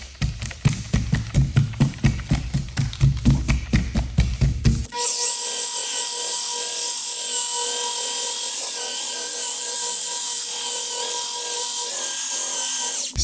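A rotary polisher works compound into Tesla paint; a rhythmic scraping rub comes first, then a loud, steady high whine of the machine running continuously.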